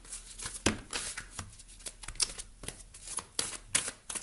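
Tarot cards being spread out across a table, soft quick slides and flicks of the deck in an irregular rhythm, close and quiet with no voices.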